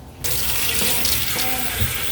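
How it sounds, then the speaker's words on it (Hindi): Cold water gushes from a kitchen tap onto cooked pasta, starting abruptly and then running as a steady, close splashing rush. "इस पे थोड़ा ठंडा पानी डाल के इसको अच्छे से थोड़ा ठंडा कर दें"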